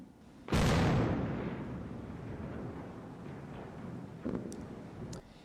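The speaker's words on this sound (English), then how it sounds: "You heard the explosion and then splash right there." A controlled demolition blast drops the remaining spans of the Francis Scott Key Bridge into the water: one sudden loud boom, then a long distant rolling rumble and a later splash-like surge.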